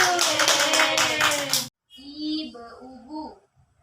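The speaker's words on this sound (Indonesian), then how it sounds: "ya tepuk tangan dulu." Children in a classroom clap in unison for about a second and a half at a teacher's prompt, a brisk burst of claps, followed by a teacher's voice speaking.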